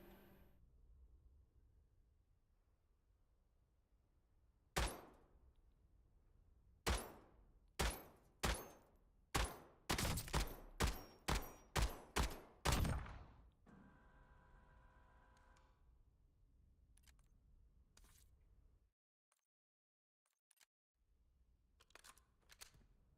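Gunfire from a gun in Call of Duty Warzone: a few separate sharp shots, then a fast run of loud close cracks, a quieter stretch with faint ticks, a brief silence, and light clicks after it. No voices.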